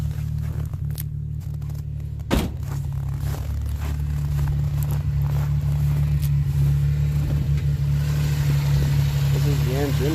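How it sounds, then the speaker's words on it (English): A 1989 Chevrolet Sprint engine, steaming slightly, idles steadily with a low, even hum, after a brief sharp clatter near the start. "This is the engine."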